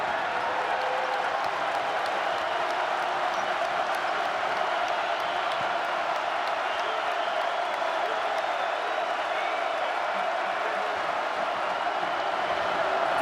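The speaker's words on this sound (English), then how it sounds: "crowd on its feet in the final few seconds here of the first half" A home crowd at Rutgers' basketball arena stands and roars through the final seconds of the first half against Ohio State. The steady, far-off cheering never lets up, with a commentator talking over it.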